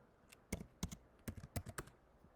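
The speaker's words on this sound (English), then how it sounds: "By simply typing a command," Quiet, sparse keystrokes on a computer keyboard as a command is typed, about a dozen sharp clicks in irregular bursts, close and alone.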